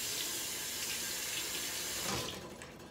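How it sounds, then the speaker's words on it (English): Tap water runs steadily into a sink while a cutting board is rinsed under it, a close, continuous broadband rush that thins out and quiets over the last moments. "I'm gonna move this over here and rinse my board off of"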